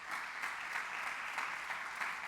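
A church congregation gives a round of applause during a service, a soft, steady patter of many hands, somewhat distant and without speech.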